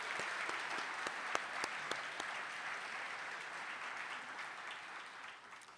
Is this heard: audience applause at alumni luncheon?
yes